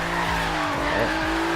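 Nissan 350Z (Z33) engine lugging and bogging as it drifts through the gears, a loud, close, steady drone with sagging and rising pitch swoops and tire noise, no talking.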